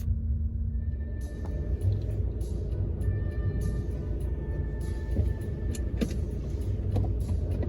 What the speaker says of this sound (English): They're just lowering the ramp down and we're about to drive off.